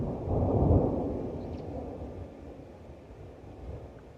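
On a darkening, rainy day, a low, distant thunder rumble swells within the first second and then slowly dies away under faint wind noise, with a softer rumble near the end.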